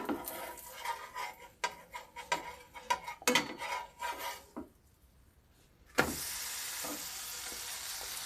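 A pork roast seasoned with garlic parmesan sizzles in a pan after being flipped, with scraping and clinking utensil sounds in bursts, a near-silent pause, then a louder steady sizzle.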